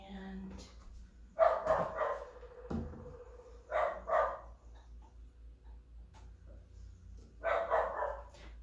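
A dog barks indoors in several short bursts of two or three barks, somewhat distant and moderately loud, with gaps of quiet between them and a steady low hum underneath.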